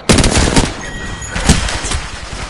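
Close, loud gunfire in the video game Apex Legends: rapid automatic bursts crackle over about two seconds, with a second volley following a short lull and no speech.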